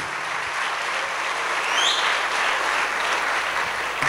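A church congregation applauding, a dense, steady wash of clapping from many hands that fills the space, sustained at even loudness with no talk over it.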